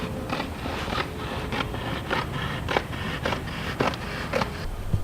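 A blade slices through aircraft window tint film along a marked Sharpie line during a tint install on an F33 Bonanza, giving a steady run of short, close scraping and snipping strokes at a fairly even rhythm with no talking.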